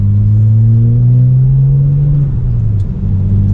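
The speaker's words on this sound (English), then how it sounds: "You can really hear that turbo." A tuned twin-turbo BMW with a full exhaust revs nearby, its deep engine note rising steadily, then dropping off and settling back to a loud rumbling idle.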